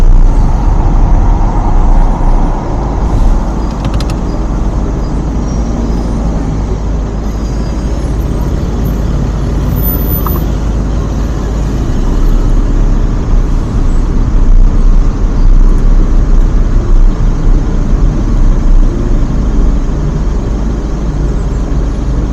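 Car driving on a road and slowing to a stop, a loud continuous low engine and road rumble with passing traffic noise, steady throughout with no speech.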